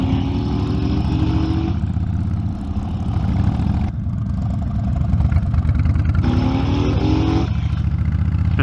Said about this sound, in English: Stevy Todd is going to test ride a new Street Glide, or Road Glide, Ultra, Limited.